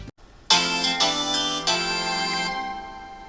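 Phone ringtone ringing during a courtroom adventure video game, a bright synthesized tone with several sustained bursts, loud and alone without speech.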